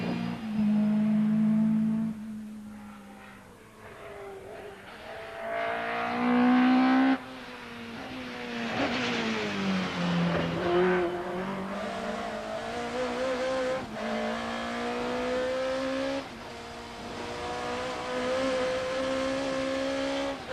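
A 1992 BTCC front-wheel-drive touring race car driven hard, its engine revving up and down through gear changes with rising and falling pitch, loud and continuous from onboard, no talking.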